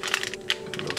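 Ration coffee packet from an Australian Defence Force CR1M Menu D being torn open, heard as a quick run of close, crisp crackling rips over a steady background hum, with no talking.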